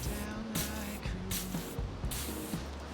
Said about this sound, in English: So we get the bug spray, or the disinfectant spray,